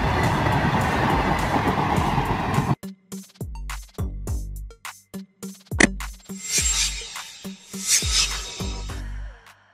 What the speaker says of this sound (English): Freight trains are used for transporting goods and commodities over long distances.